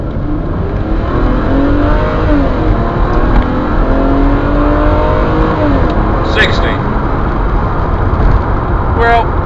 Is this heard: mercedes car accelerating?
yes